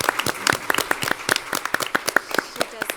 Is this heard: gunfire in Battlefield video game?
no